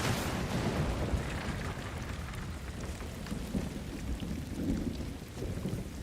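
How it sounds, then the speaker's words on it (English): Thunderstorm in the video game Ghost of Tsushima: steady heavy rain hisses with deep rolling thunder rumbling throughout, loud and continuous with no talking. "This lightning is so loud."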